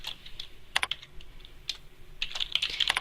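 Typing on a computer keyboard, soft, close clicks in an uneven rhythm that speed up into a faster flurry of keystrokes near the end.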